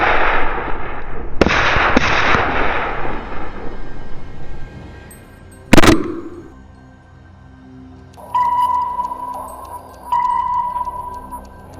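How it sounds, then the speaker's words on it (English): A single sharp, loud gunshot cracks out amid outdoor rustling on a wild boar hunt, followed by quieter ambience and steady electronic beeping tones. "Without hesitation, I pulled the trigger."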